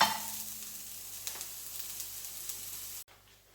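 Lots of garlic sautéing in a pan as the base for a Jamaican-style coconut jackfruit curry: a steady, close frying hiss with a few faint pops, cutting off abruptly near the end.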